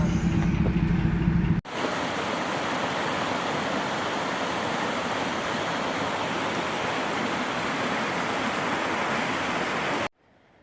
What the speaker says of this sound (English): This is the Kennebec River.